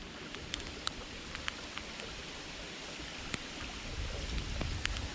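Rain falls steadily over the Perdido River on a kayak trip, a soft continuous hiss with scattered sharp drip ticks and no talk.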